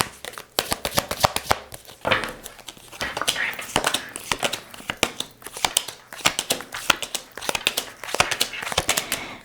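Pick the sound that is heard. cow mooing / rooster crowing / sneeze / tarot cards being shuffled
tarot cards being shuffled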